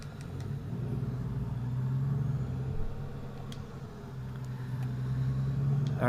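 Truck engine in American Truck Simulator, a steady low rumbling drone that holds for several seconds, swelling slightly as the rig drives along, with no talk over it.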